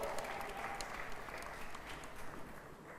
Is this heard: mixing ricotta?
no